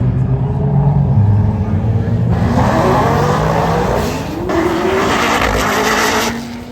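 A boosted Corvette launches down a drag strip with its tires spinning and squealing, engine roaring loud and near, rising in pitch as it accelerates; crowd voices mix faintly underneath.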